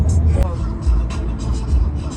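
A new car drives along with a low, steady road rumble and engine hum from inside the cabin, while people talk over it.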